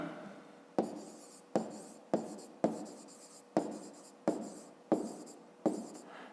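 Pen writing by hand on paper during a fifth-grade maths exercise: a close, quiet series of about eight even scratching strokes, each starting sharply and fading, in a steady rhythm.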